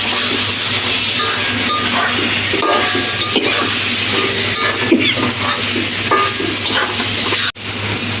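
Dried fish (shutki) sautéing in a pan with a dense, steady sizzle and hiss, close and loud, broken by occasional scraping clinks of a spatula stirring against the metal.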